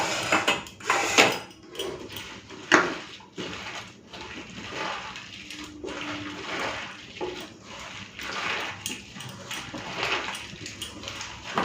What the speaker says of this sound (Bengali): চলুন এগুলো সব বেসনে দিয়ে দিই, সব একসাথে মেখে নিয়ে